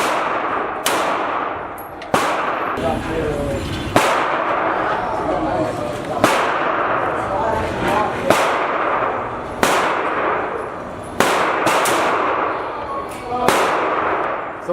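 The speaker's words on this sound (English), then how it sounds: "let's shoot it and see what we think about it." Single pistol shots from a Smith and Wesson SD9VE at a shooting range, sharp loud cracks spaced a second or two apart, with a voice talking between them.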